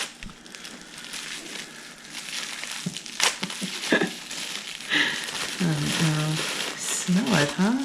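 Gift wrap paper being peeled and crinkled, a close, irregular rustling that comes in bursts, with people talking over parts of it.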